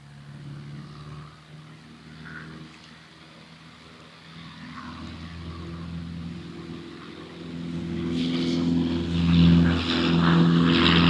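A propeller airplane takes off and passes overhead at an airfield. Its engine drone builds from a distant hum to a louder, steady roar toward the end, with no voices.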